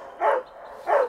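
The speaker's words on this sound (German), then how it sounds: "Da bellt der Hund." A dog barks twice, with short evenly spaced woofs that sound fairly close and clear over a quiet background.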